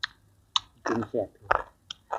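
Blanched squid dipped in Thai seafood sauce being chewed up close, wet smacking bites coming in short bursts with brief pauses between them.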